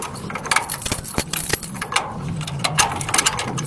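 A bunch of keys jangles and clinks in a burst of sharp metallic rattles over several seconds, close up, at a nail salon near a market being opened for the day.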